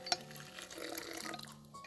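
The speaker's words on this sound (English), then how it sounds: "in your mixer, we're going to go ahead and add our frothy yeast water and sugar" Frothy yeast water with sugar is poured into a stand mixer bowl, giving a short, soft liquid splash and trickle with a faint clink, close by.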